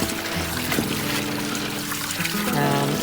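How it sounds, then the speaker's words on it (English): Water pours steadily over pinto beans in a colander, a close, continuous splashing trickle that runs throughout with no talk. "I just dump the water and refill it"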